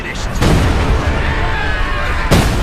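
Artillery fire booms in the World War II strategy game Company of Heroes 2, with heavy blasts at the start and end over a loud, continuous rumble of battle.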